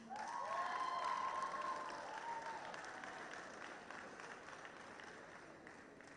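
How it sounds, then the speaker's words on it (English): Delegates at a Model United Nations conference in Nigeria give a round of applause, distant and soft, fading slowly over several seconds with a brief tonal whistle early on. "A round of applause for them, please"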